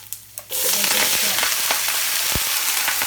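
Green vegetables hit a hot wok with Chinese bacon and Sichuan pepper oil, bursting into a loud, dense stir-fry sizzle after two brief knocks, with scraping and tossing ticks through the roar.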